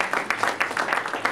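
An audience claps for a founding member of a steel band in a brief burst of applause, close and fairly loud.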